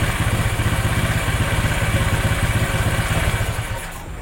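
Honda Vario scooter engine idling after ECU tuning, a loud, close, steady pulsing putter with a fast, even rhythm that eases slightly near the end.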